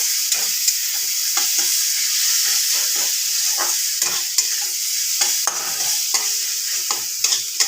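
Ginger and slit green chillies fry loudly in a pan for a katla fish curry, with a constant hiss and frequent sharp scrapes of a spatula stirring, no one talking.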